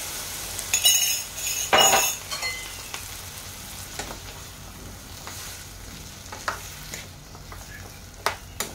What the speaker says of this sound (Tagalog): Bubuhos na natin ang ating gata.